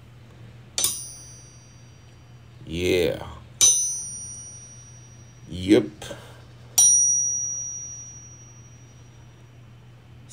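A Honda D16Y8 crankshaft from a Civic VTi engine rebuild is struck three times during a crack test. Each strike gives a bright, sustained metallic ring that slowly fades over a low hum, with brief talk between strikes.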